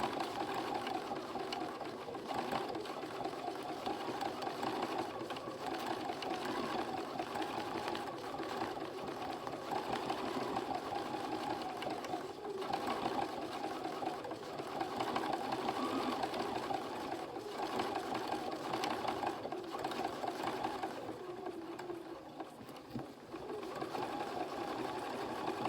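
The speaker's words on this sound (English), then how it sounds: "just to use this sewing machine as if it was a pencil" A sewing machine stitches a fabric collage in a continuous, fast, even whirr with a mechanical rattle, running steadily nearby for a long stretch without talking.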